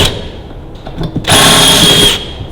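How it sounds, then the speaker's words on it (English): A 5mm drill bit bores out rivet holes on a Ferguson TEA20 tractor part, a short loud high-pitched whine after quiet handling noises, running steadily for about a second before stopping. "So I've got a 5mm drill bit there. I'm just cleaning out the holes a little bit."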